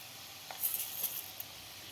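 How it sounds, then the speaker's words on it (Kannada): Urad dal and grated coconut fry gently in a pan with faint, steady sizzling and a few small crackles and pops close by. "ಈಗ ಅದು ಸ್ವಲ್ಪ ಹುರಿತಾ ಇದ್ದಂತೆಯೇ ಉದ್ದಿನಬೇಳೆನೂ ಹಾಕ್ತಾಯಿದ್ದೀನಿ"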